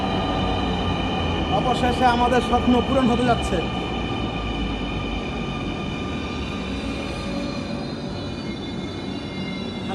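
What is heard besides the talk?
Dhaka metro rail train arriving at station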